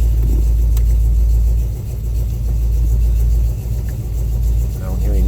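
A 1973 Ford Mustang Mach 1 with a 351 Cleveland Cobra Jet V8, freshly tuned with new plugs and wires, idles with a steady, loud low rumble throughout, with no other sounds.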